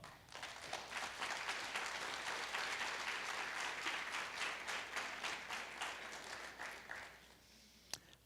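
A church congregation applauds during a sermon, a dense, continuous clapping that fills the room for several seconds before thinning out, ending with one sharp final clap.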